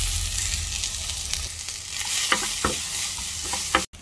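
Leftover rice being stir-fried into sinangag in a pan for a Filipino breakfast, a steady close sizzle with scraping stir strokes near the end, no talking.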